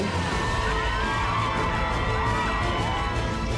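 A distant crowd at the finish of a Spartan obstacle race cheering and shouting continuously, a dense wash of voices with no breaks.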